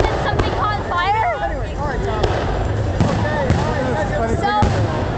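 Fireworks bursting over Central Park, a continuous crackle and pop of distant explosions and whistling streaks mixed with crowd noise and nearby talking.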